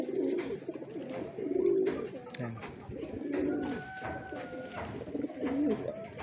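Racing pigeons coo repeatedly inside a loft during breeding season, soft rolling coos close by, with someone speaking briefly over them.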